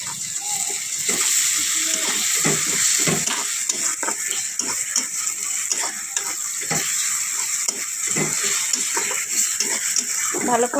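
Onions with ginger-garlic paste sautéing in a hot pan, a continuous near sizzle with repeated spatula scrapes and stirring knocks throughout.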